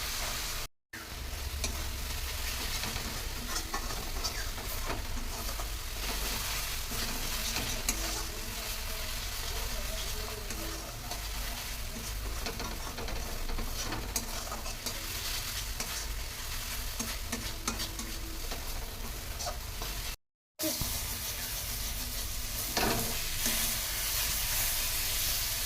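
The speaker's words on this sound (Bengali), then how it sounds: "তো আমি এগুলো একটু মশলাটা কষে নিই" Spice masala fries hard in a hot pan while being stirred, a dense, loud, steady sizzle with scraping of the spoon running nearly the whole time, broken by two brief silent gaps.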